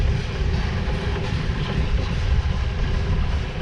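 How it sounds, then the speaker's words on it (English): A long freight train rumbles steadily past nearby, a continuous heavy roar of rolling wagons with faint clattering, lasting the whole stretch. "Pretty long train."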